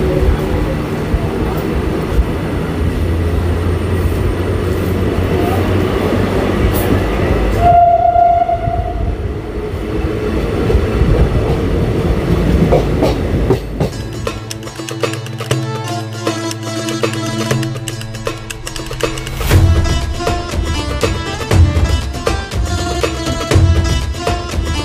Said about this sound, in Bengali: ইছাপুর স্টেশনে 1 নম্বর প্ল্যাটফর্মের উপর দিয়ে আমাদের ট্রেন যাচ্ছে।